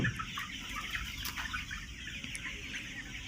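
Chickens, Sonali poultry at a market, cluck and murmur in a busy flock, overlapping calls close by with a steady clamor throughout.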